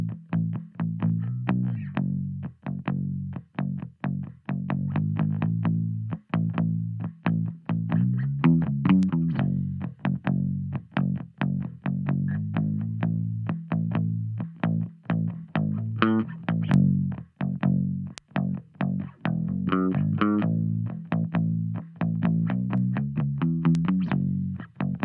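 DI electric bass compressed through a Gem Comp LA (3A-style) compressor, playing a steady run of plucked, punchy notes with a slightly gritty edge, close and upfront with no voices for the whole stretch.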